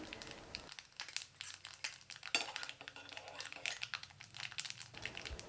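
Rapid crackling and popping sputters in bursts as mustard seeds, cumin and fenugreek fry in hot oil, fairly faint with brief louder pops.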